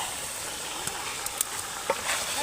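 Mutton is stirred in a large cooking pot during outdoor festive cooking, with a steady sizzling hiss and a few short scraping knocks from the ladle against the vessel.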